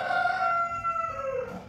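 A rooster gives one long, loud crow close by, a drawn-out wavering call that trails off at the end.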